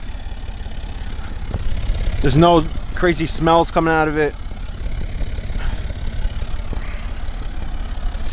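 A Jeep SRT engine and exhaust idle steadily as a low, continuous rumble throughout, with someone talking over it partway through.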